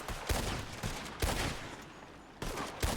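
Gunfire trades back and forth in a video game battle during a boat landing, with bursts of shots and sharp cracks recurring through the clip, fairly loud and up close.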